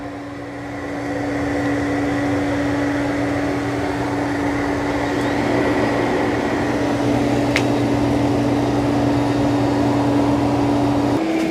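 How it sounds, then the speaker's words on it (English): Shark Matrix Plus and Eureka E10s robot vacuums cleaning a floor scattered with dirt and debris, a steady motor drone with a constant whine, close and unbroken. "here's the Shark. It's doing a good job of vacuuming."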